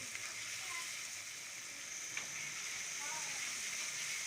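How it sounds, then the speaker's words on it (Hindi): Powdered spices fry in a pan for aloo karahi, giving a steady, close hiss of sizzling oil that runs unbroken with only faint clicks. "अच्छी तरह से भूनेंगे मसालों को।"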